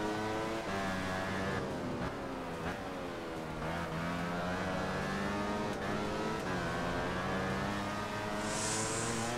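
A racing motorcycle in Valentino Rossi The Game on the Laguna Seca circuit revs up and down again and again through gear changes. The engine sound is loud and continuous, with no talk over it.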